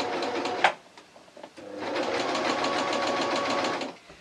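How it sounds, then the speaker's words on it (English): A sewing machine stitches a T-shirt hem: a short burst, a pause, then a steady rapid mechanical chatter for about two seconds before it stops, close and clear. "let's ask the machine nicely to go over the hem"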